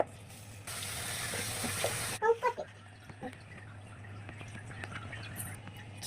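Tap water gushes into a vessel of rice for about a second and a half, then stops, followed by soft clinks and splashes as the grains are swished and rinsed by hand.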